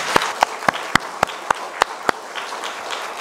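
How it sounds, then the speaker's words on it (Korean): A church congregation claps in unison during a Sunday afternoon service: about eight sharp, evenly spaced claps, loud and close, then the rhythm dissolves into a looser wash of scattered applause. "이 시간 다시 한번 하나님께 또 영광의 박수를 올려드리겠습니다"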